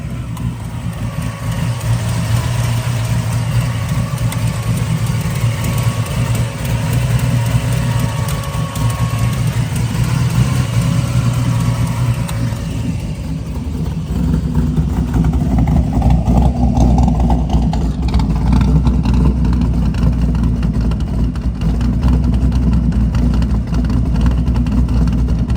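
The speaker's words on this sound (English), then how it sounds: "Listen to that exhaust note, it sounds awesome." A 1972 Chevrolet Chevelle with a 383 stroker engine runs close by, a deep rumbling idle and exhaust note that steadies and then swells heavier and louder partway through, droning continuously.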